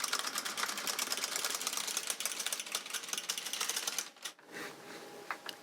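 A Silver Reed LK150 knitting machine carriage sweeps a row of sport weight yarn, a steady rapid clatter of needles running for about four seconds before it stops and leaves a quieter rattle.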